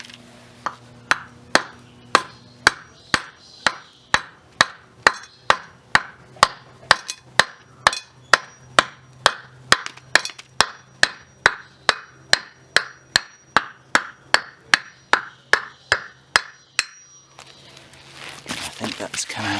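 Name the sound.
hammer striking a wooden block on a shaft end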